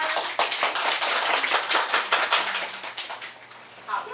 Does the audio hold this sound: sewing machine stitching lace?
no